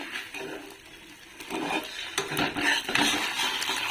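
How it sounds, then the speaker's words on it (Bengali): An egg frying in a pan, with a soft sizzle beneath scraping and stirring from a utensil against the pan, close by and fairly quiet, with no voices. "এখানে হচ্ছে ডিমটা ভাজা করছি"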